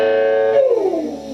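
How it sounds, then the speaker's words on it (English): A guitar slide for an early 2000s hip hop beat: a sustained twangy chord that bends downward in pitch and fades within about a second, heard alone. "something else that was a staple of early 2000s hip hop was the guitar slide"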